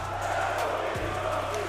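Esports arena crowd at the BLAST R6 Manchester Major grand final: a continuous roar of cheering and whooping from a large audience, filling the hall at steady loudness.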